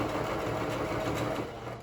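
A sewing machine stitches fabric for a needle case at an even, steady pace, its close mechanical whir and rhythmic ticking running unbroken.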